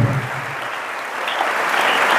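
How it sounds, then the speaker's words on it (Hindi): Loud, sustained applause from a crowd at a Hindi-language event marking India's Chandrayaan-3 mission, steady and dense throughout the short stretch. "जोरदार तालियां इस बात के लिए"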